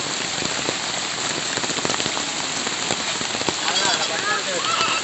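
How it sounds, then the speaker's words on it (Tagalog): Rain falls steadily on surfaces outdoors in Maribojoc, Bohol, Philippines, a dense continuous patter of close drops with faint voices in the background near the end. "Suddenly, it's raining."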